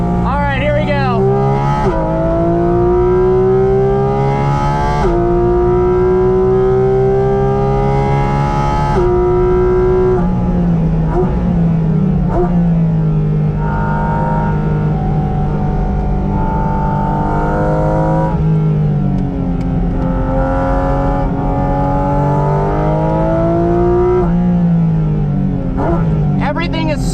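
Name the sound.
Porsche Cayman GT4 RS flat-six engine revving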